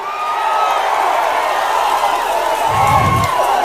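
A crowd at an outdoor political rally cheers and claps in a steady, dense roar with scattered whoops, loud and continuous throughout.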